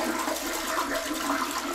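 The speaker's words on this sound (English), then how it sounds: "the first thing you want to do is actually just flush the toilet to get the water out." Toilet flushed to empty the bowl during a DIY replacement, a brief loud rushing surge of water filling the whole moment.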